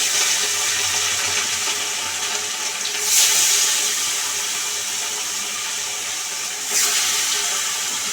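Rohu fish pieces rubbed with turmeric and salt go into hot oil, making a steady loud hiss with two brief surges as each piece drops in, and no voices.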